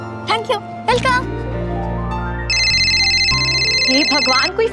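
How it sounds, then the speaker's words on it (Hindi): A home telephone rings with a long electronic ringtone, loud and close, with a bright sustained trill through the middle while people talk over it before and after. "कोई फोन भी नहीं उठाता इस घर में"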